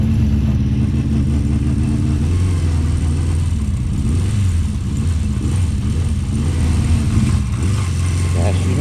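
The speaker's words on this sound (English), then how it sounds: "Not running quite right, which is a shame really" A classic Honda CB400/4 Super Sport motorcycle engine runs rough, chugging unevenly at low revs with a loud, close, steady mechanical drone.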